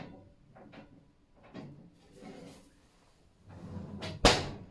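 An oven door is pushed shut in a home kitchen: several soft knocks and rustles lead up to one sharp, loud thud near the end, close by.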